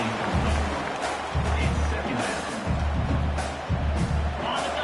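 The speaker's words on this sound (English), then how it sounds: "listen to this crowd noise" A large American football stadium crowd in a video game roars and rumbles in waves while a voice talks over the din.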